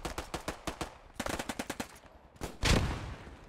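Machine gun bursts in an online multiplayer war shooter, two rhythmic strings of sharp shots with a short gap between them, then a single loud booming blast.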